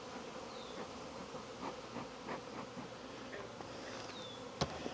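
Honey bees swarm around a hive while a beekeeper works with a smoker, a steady close buzzing drone with individual bees whining past, quiet, ending with a sharp click.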